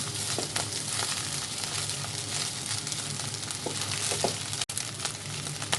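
Seafood fried rice stir-fried in a pan with a pinch of curry powder, a steady loud sizzle and crackle throughout, with occasional scraping taps of a spatula pressing the rice against the pan.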